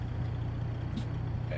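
A loud truck engine drones steadily in American Truck Simulator, a low continuous rumble with a brief hissing burst near the middle.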